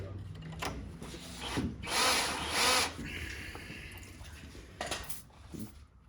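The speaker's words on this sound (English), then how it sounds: "I think we got a good pilot hole started on that one." A power drill whirs up in short bursts, biting into metal with grinding while drilling a pilot hole on a 1972 Chevrolet C10 truck, close by and loud, with brief pauses between runs.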